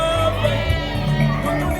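Crowd cheering and acclaiming at a funeral gathering, a dense, loud wash of many voices clapping and calling out together for a short moment.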